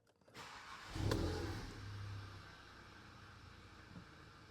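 A Volkswagen Mk7 Golf GTI Performance Pack, fitted with a de-resonator, starts up with a brief cranking whir before the engine catches in a loud low flare, then settles into a steady, rumbling idle close by.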